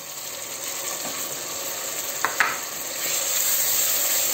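Onions frying in a pan with chopped tomatoes tipped in, a steady close sizzle with brief scraping stir strokes midway, the hiss swelling slightly as the tomatoes hit the hot oil.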